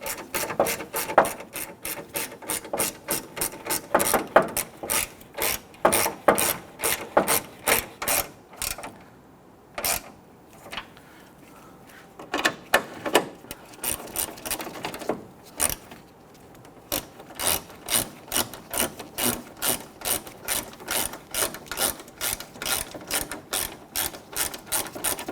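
A ratchet tightens a bolt on a fog light of a 2006-2010 Hummer H3, close and crisp, rapid clicking strokes in bursts with a few short pauses between sets.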